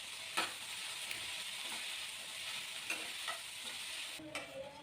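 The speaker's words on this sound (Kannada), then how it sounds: "ಈಗ ಸ್ವಲ್ಪ ಟೊಮೊಟೊ ಎಲ್ಲ ಸಾಫ್ಟ್ ಆಗಲಿ ಅಂತ ಅಂದ್ಬಿಟ್ಟು ಸ್ವಲ್ಪ ಬೇಯಿಸ್ತಾ ಇದ್ದೀನಿ" Tomatoes soften in a frying pan for an aloo kurma, a steady sizzle and hiss running throughout while a spoon scrapes and stirs in occasional distinct strokes; no talking.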